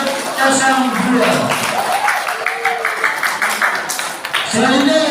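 A school audience applauds candidate pair number 02 at a high school student council election debate, steady loud clapping throughout with voices and crowd noise mixed in.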